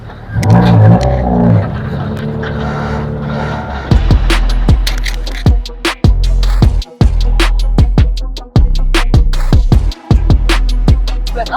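Racing cars rev hard during practice at Jan Meda, loud and close, with repeated sharp throttle blips and gear changes cutting through a sustained engine roar.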